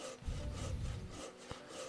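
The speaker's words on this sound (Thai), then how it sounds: "นี่ทำการเลื่อยแบบนี้" Wood is sawn in Gladiators: Survival in Rome, a soft rhythmic rasp of repeated strokes with a small knock near the end, quiet and close.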